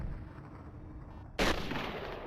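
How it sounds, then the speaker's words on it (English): A single loud sniper rifle shot goes off in the video game FireWarrior, a sharp sudden blast after a quiet stretch of low game ambience, followed by a lingering rumbling tail. "With my sniper rifle, so I can snipe them."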